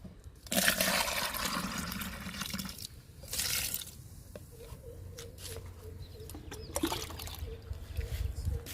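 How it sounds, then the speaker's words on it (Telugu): Homemade liquid fertilizer of dal, gram cake, tea powder and egg powder poured onto a sapota plant, splashing and gurgling in bursts with drips and pauses between, close by outdoors. "సపోటా మొక్కకి లిక్విడ్ ఇస్తున్నా"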